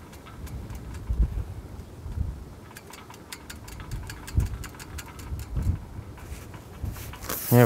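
Wind gusting across a riverbank on the River Trent during roach fishing, a steady low rumbling buffet with surges that swell and fade, heard close with no talking.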